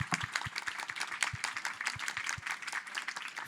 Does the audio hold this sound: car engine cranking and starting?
no